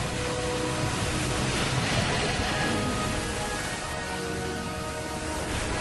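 Steady roar of sea surf washing and crashing, a dense continuous wash of noise at constant loudness throughout, with no voices.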